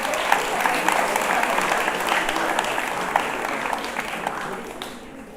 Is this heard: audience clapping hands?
yes